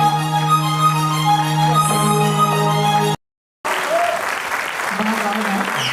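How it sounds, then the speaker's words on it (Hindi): Audience applause at a musical night concert. Sustained, dense clapping from a crowd follows a stretch of tonal music and a short silent break. "जोरदार तालियां बजाएं"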